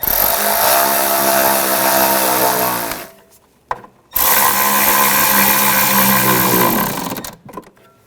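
A power tool whirs loudly while tightening nuts on the rear shock absorber of a 2009–2010 BMW 535i xDrive, running in two sustained bursts separated by a short pause, with no talking.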